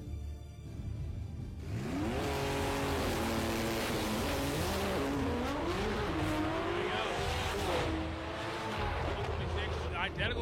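A drag racing car roars at full throttle alongside a commentator's excited voice, its engine whining through rising and falling pitch sweeps, loud and continuous over roughly eight seconds as the car goes out of shape and slaps sideways into a wall.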